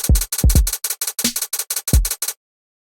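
Drum sequence playing back in Impact XT with 100% swing, heavily lopsided hi-hat timing over booming kicks and a snare hit, a loud, close electronic loop of a couple of seconds that stops abruptly, with nobody speaking.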